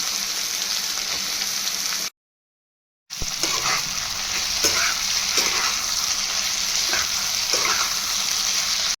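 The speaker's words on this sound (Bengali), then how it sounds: "ওই তেলেই যে আলু আর পটলটা নুন হলুদ মাখিয়ে রেখেছিলাম ওটা ভেজে নেব।" Potatoes and pointed gourd rubbed with salt and turmeric sizzle in hot oil in a pan, a steady loud frying hiss with occasional stirring scrapes, briefly cut to silence partway through.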